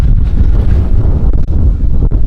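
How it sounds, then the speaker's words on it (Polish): Strong wind buffets a microphone outdoors during the cycling leg of a double ultra triathlon in Emsdetten, a loud, steady low roar with brief gusting dips and no voices. "Ale wiatr się zerwał, nie?"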